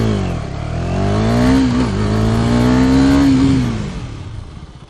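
A motorcycle accelerating hard on a training course ahead of a stoppie, the engine note rising and holding as a loud, close revving drone before easing off toward the end.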